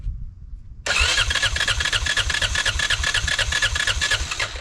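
Small engine cranked over and over by hand, carburetor choked and fuel run through a little inline filter, a rapid churning rhythm that stays loud and close without catching.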